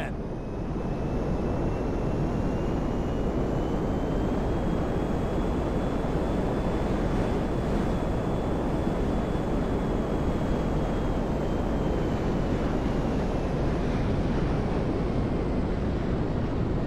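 Airplane engine in GTA 5 gameplay as a plane comes in to land at an airfield, a steady loud droning roar with a slowly rising and falling whine, continuous throughout.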